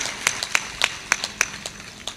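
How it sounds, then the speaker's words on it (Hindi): An audience claps in a spiritual satsang gathering: a short run of roughly ten distinct, fairly close hand claps at an uneven pace over a soft background. "ताली बजाओ"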